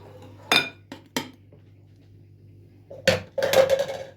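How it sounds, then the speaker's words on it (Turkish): A spoon knocks and scrapes against a bowl while a spinach-purée mixture for a watermelon-shaped cake is stirred, giving a few sharp clinks early on and a busier clatter of strokes near the end. "Şöyle bir karıştırayım."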